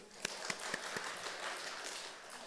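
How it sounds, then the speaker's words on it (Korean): A room of teachers at a church training session gives a brief round of applause, light scattered clapping with a few sharp claps at the start, fairly faint and distant. "박수 한번 쳐주세요."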